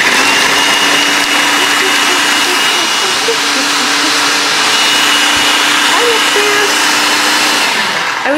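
A kitchen food processor runs continuously with a loud, steady whirring roar and a faint motor hum, close by, with no pauses.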